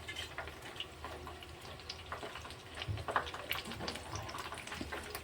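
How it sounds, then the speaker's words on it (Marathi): Balushahi pastries deep-frying in hot oil give a steady, soft crackling sizzle with scattered bubbling pops, moderately close and continuous, with no talking. "आपल्याला हे तेलामध्ये चांगले एकदम खुसखुशीत तळून घ्यायचे"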